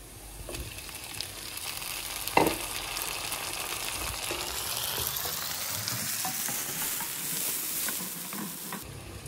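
Onions and tomatoes frying in a pan, a steady close sizzle with a sharp clatter early on, building into brighter spattering hiss as it goes.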